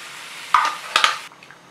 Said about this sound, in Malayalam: തൈര് ഒഴിച്ചിട്ട് നമ്മൾ ഇളക്കി കൊടുത്തോണ്ടിരിക്കണം, അല്ലെങ്കിൽ തൈര് പിരിഞ്ഞു പോകും